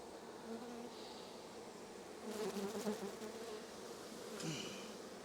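Honeybee swarm being moved in the evening, a continuous close drone of many bees that swells briefly as the cluster is disturbed, steady and fairly soft with no speech.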